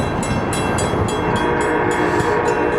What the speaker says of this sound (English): if you guys can hear it off into the distance, that's actually a train